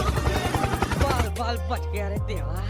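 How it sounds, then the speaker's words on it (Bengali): A cartoon helicopter thumps with fast rhythmic rotor pulses at the start, then gives way to tonal, voice-like and musical sounds. "helicopter helicopter"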